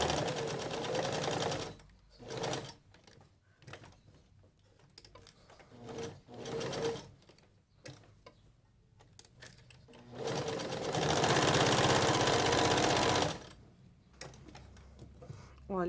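Sewing machine stitching a double-sided bandana, loud rapid mechanical chatter in several runs of varying length separated by pauses and quieter handling noises, close by.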